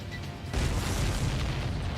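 Missiles explode in the Ace Combat 7 flight game: after a quiet half second, a loud sustained blast rumbles in with deep bass and broad roaring noise that holds steady to the end.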